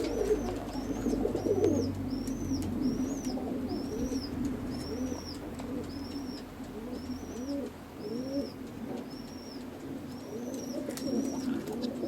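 Roller pigeons coo in soft, repeated throaty phrases close by, with high chirping calls recurring above them at a steady rhythm and a low background hum underneath.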